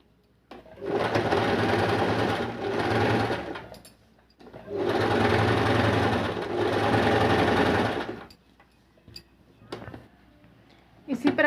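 A sewing machine runs in two long continuous bursts stitching a semi-Patiala salwar, loud and steady with a short pause between runs, followed by quieter handling clicks and taps.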